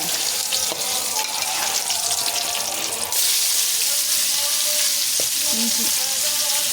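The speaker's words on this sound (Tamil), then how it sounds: "தண்ணியோட போட்டால் தெரிக்குதுல்ல" Wet ingredients hit hot oil in a pan while cooking wheat rava upma with cumin, setting off loud, continuous sizzling and spattering that swells and intensifies partway through, close up and dense.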